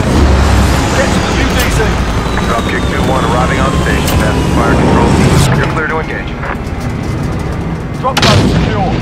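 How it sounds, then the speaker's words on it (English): A friendly support helicopter arriving in Call of Duty: Modern Warfare amid a loud barrage of artillery and gunfire, with rotor and aircraft drone under constant explosions and a voice speaking over the battle. "Friendly support helo inbound."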